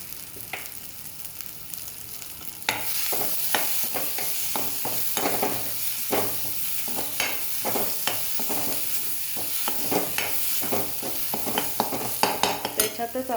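Masala frying in a pan over a medium gas flame, stirred steadily: a continuous sizzle swells after a quiet start, with rhythmic scraping strokes of the spoon repeating up close, and no talking.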